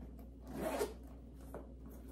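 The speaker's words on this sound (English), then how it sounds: "That zips up, doesn't make the zipper all wonky." A Dooney and Bourke coin case zipper is drawn in one quick, close pass, a short soft rasp rising and fading over about a second in a quiet room.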